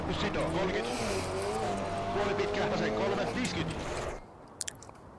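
A rally car in Richard Burns Rally drives hard with a loud, continuous engine drone that shifts pitch and then cuts off abruptly near the end, with a voice talking over it.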